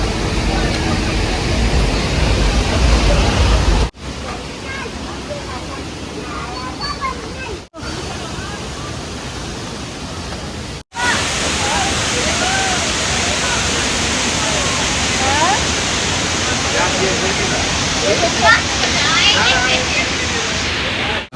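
Kempty Falls waterfall in Mussoorie in freezing winter, a steady broadband roar of rushing water filling the scene, with a busy tourist crowd chattering throughout and brief cuts in the middle.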